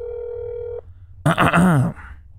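A telephone in the horror game That's not my Neighbor gives a steady electronic tone that stops abruptly, followed by a short voice on the line.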